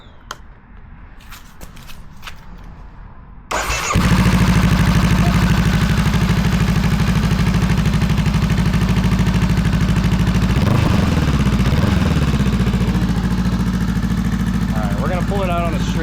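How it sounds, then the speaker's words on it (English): A Honda CB500F motorcycle fitted with a Coffman exhaust starts after a few seconds of quiet, handling noise and settles into a loud, steady, close idle with a throaty pulse. "All right, let's start her up."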